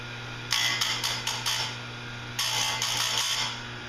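A chain grinder's cutting wheel sharpens a chainsaw chain in two bursts of bright, gritty grinding, the first broken into short strokes and the second more sustained, over a steady low motor hum.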